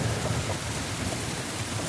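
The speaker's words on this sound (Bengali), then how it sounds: "দেখো কত জোরে বৃষ্টি হচ্ছে" Heavy rain pouring steadily in Arambagh, a dense continuous hiss and patter with no voices.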